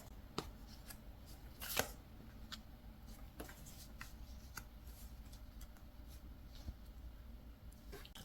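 Oracle message cards being shuffled by hand, soft papery riffles and taps in an irregular rhythm, close and quiet, with one louder flutter early on.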